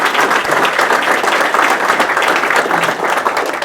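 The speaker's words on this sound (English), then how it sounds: "No doubt from the applause" Steady, dense applause from an audience at a ribbon-cutting ceremony in Jacksonville, loud and sustained throughout with no voices over it.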